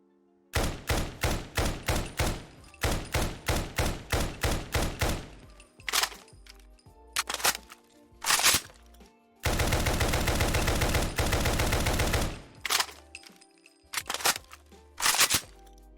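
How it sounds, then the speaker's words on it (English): A modded rifle in Fallout 4 fires in rapid automatic bursts, then reload clicks and clacks follow, with a sustained stretch of fast fire and more single mechanical reload sounds, loud and close, with no talking. "I'm going to go ahead and show off the reload animations and sounds so you can see exactly what this thing is like"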